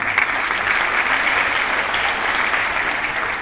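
An audience claps throughout, honouring people praised in a Hindi speech: dense, steady applause at a fairly loud, even level with no voices breaking through.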